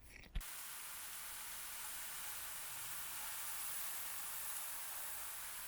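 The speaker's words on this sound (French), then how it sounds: "je vais cuire les steaks sur la plaque" Beef burger patties sear on a flat griddle plate for a homemade XXL burger, giving a steady, even sizzle that holds throughout after a brief thump at the start.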